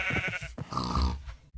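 Sheep on a farm raised for wool and meat bleat close by, a couple of short wavering calls over faint grunting, heard alone.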